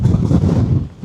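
Strong wind buffets the microphone on the exposed summit of Conic Hill, a steady loud low roar that dips briefly near the end before gusting back up.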